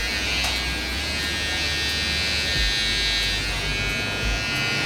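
An electric hair clipper held straight while marking and trimming the neckline, a continuous loud close buzz with slight changes in tone as it moves against the hair.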